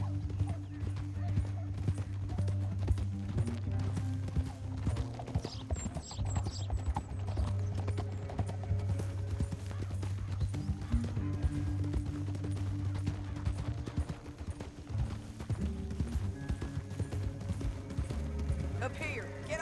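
Horse hooves clip-clop steadily in a Red Dead Redemption 2 western canyon ride, a continuous galloping patter under a low droning score and occasional game sounds throughout.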